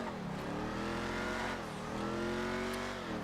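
Ruiner 2000 car engine in GTA 5 revving loudly and continuously, with rising and falling pitch sweeps as it accelerates, close and steady with no talking.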